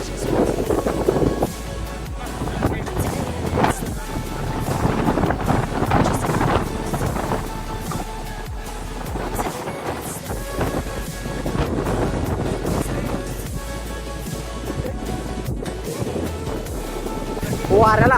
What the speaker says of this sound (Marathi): अनलिमिटेड वारा यायला लागले आमच्याकडे